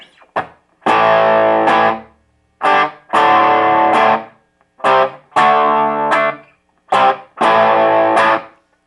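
An electric guitar plays through a Fender Hot Rod Deluxe III on the green crunch channel at gain 4 with reverb off, loud distorted strummed chords in repeated rhythmic phrases with short gaps.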